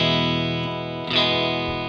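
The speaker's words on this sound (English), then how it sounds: "I wanted to have a distortion. The drive now is very low, so I put the drive block in distortion mode" Electric guitar played through a Fractal amp modeler preset with the drive block set to distortion mode, a sustained distorted chord ringing out loudly and steadily with a brief pick attack near the middle and no talking.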